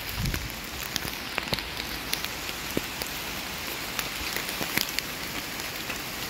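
Steady rain pours in the Batumi Botanical Garden, a dense even hiss with scattered sharper drops pattering on leaves and surfaces nearby, continuous and unbroken throughout.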